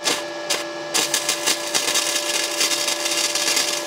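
Crackling, sputtering arc welding on a Renault 11, power turned down after starting too high, with a sizzling hiss and irregular pops over a steady electrical hum, close and continuous without speech.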